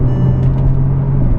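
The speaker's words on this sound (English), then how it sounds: "So here we are in 3rd, full pull" A 2012–2015 Bentley Continental GT pulls hard at full throttle in third gear with the transmission in Sport, its loud, steady engine roar and deep exhaust rumble close and continuous.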